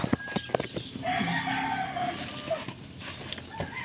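A rooster crows on a farm over scattered chicken clucks, the crow drawn out and fairly close, with sharp clucks and a few thumps before and after.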